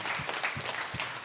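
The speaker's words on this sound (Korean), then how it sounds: "박수 한번 쳐줘요" A church congregation applauds with a steady patter of many hands clapping at a close-to-mid distance, brief and unbroken by talk.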